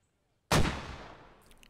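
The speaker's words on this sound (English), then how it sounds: "More Russian mortars coming out here." A single Russian mortar round landing in the Squad video game, a sudden sharp boom after silence that decays into a rumbling tail over about a second, with faint distant sounds trailing at the end.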